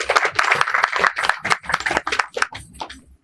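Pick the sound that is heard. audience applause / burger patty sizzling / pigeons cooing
audience applause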